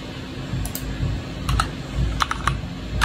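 Quick keystrokes on a computer keyboard while chatting in a Roblox fighting game, a short burst of clustered clicky taps close up over a low background hum.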